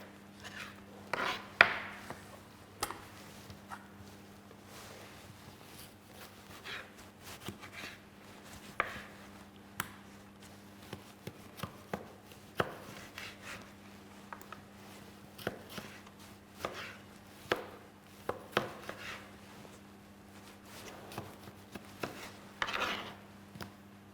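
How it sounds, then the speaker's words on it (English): Vegetables are chopped on a green cutting board with a knife, giving steady, crisp taps in an irregular rhythm, close and fairly quiet, with a low hum underneath and no talking. "when we chop the vegetables, we use the green cutting board"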